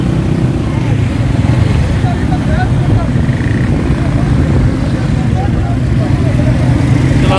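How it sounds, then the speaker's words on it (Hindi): Many motorcycle engines keep up a dense, continuous loud rumble at a crowded Eid livestock market in Bhakkar, with crowd noise and voices mixed into the din. "रश देखो कितने मोटरसाइकिल,"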